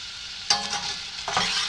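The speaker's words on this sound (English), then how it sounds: "Over medium heat, I'm sauteing the onion" Chopped onion sautés in cooking oil over medium heat, giving a close, steady sizzle. Two brief stirring scrapes rise above it.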